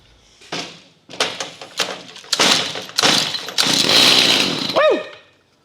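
Small gasoline engine being cranked with several short pulls, catching and running loudly for a couple of seconds, then cutting out and winding down.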